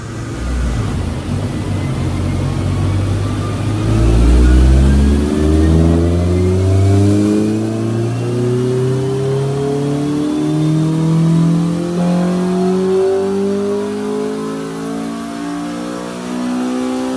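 A 1990 Honda CRX with a mostly stock engine and JDM pistons runs on a dyno, loud and close, its engine climbing through repeated gear pulls with the pitch rising steadily each time, no voices heard.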